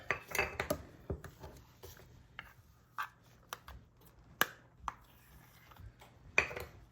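A measuring cup handled in a home kitchen while making buttermilk biscuits, with sparse light clinks and taps of utensils and dishes spread over several seconds, fairly quiet.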